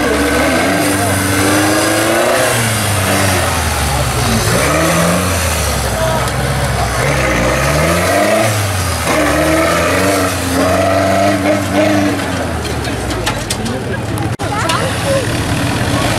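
A Volkswagen Polo 1.4 diesel engine runs steadily with a low rumble that rises and falls with the revs, while a voice talks over it throughout.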